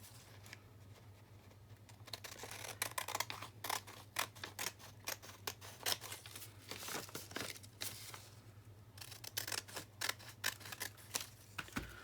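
Scissors snip repeatedly through folded paper along a marked line to make a May Day lily-of-the-valley craft, a run of crisp close cuts over a steady low hum, with no talk.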